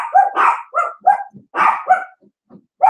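A single dog barks and yips in a quiet room, a series of sharp, close, loud calls in irregular bursts with short pauses between them and no talking.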